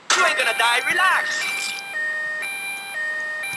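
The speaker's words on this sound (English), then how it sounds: "Oh, it's an ambulance." Ambulance siren in the video game GTA Vice City: a voice speaks briefly at the start, then a steady two-tone electronic wail alternates pitch at regular intervals, moderately loud and close.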